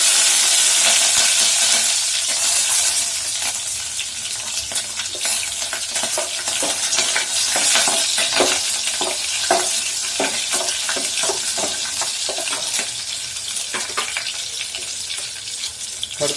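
Curry leaves and green chili frying in hot oil, a steady bright sizzle running throughout with repeated scraping stir strokes from a spatula, close and fairly loud, no voices.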